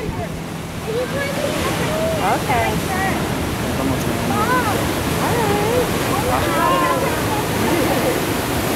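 Ocean surf at Santa Cruz, California, a steady wash of breaking waves filling the background while people talk and call out over it.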